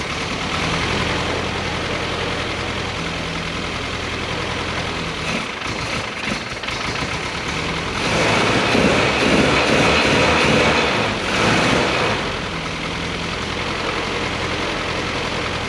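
A nippy little car's small engine idles steadily up close, a continuous low rumbling drone with a rougher, louder stretch in the middle before settling back to an even idle.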